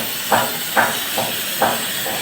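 Gas cutting torch at the Alang ship-breaking yard, heard as a steady loud hiss broken by four short, sharp bursts at irregular intervals.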